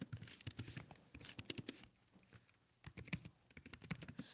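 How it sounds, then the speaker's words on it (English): Rapid, irregular typing on a computer keyboard during an AI Dungeon 2 multiplayer session, close and crisp, with bursts of keystrokes separated by a brief pause. "I will now type that in."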